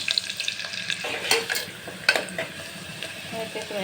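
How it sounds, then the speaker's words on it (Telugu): Onions frying in a pan for a home-cooked mutton curry, a steady sizzle broken by scraping stirs and a few sharp clinks of a spoon against the pan, close and alone with no talk. "ఇక్కడైతే ఆనియన్స్ అయితే ఫ్రై అవ్వాలి కొద్దిగా"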